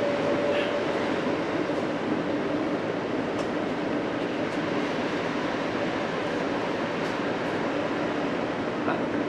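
A passenger train bound for Venice rumbles along its rails in a continuous, even roar, heard from inside the carriage, with faint rattles and clicks over the steady drone.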